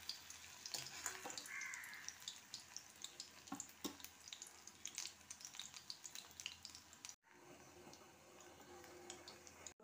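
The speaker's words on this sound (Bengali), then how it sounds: "আমি কম আঁচ করে হালকা হালকা করে ভাজবো।" Shrimp koftas frying gently in oil in a kadai on low heat, a soft, steady crackle and sizzle with faint ticking pops, heard close and quietly with no speech.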